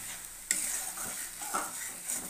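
Spice paste for a crab curry stir-fried in a pan, a steady close sizzle with scraping stirring strokes and a sharp clink of utensil on the pan partway through.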